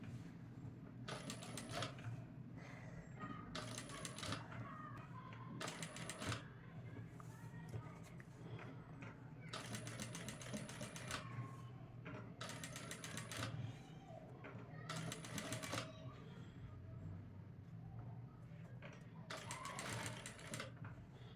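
A sewing machine stitches cutwork on a blouse in close, loud bursts of rapid mechanical whirring. Around half a dozen runs are separated by short pauses and quieter handling sounds.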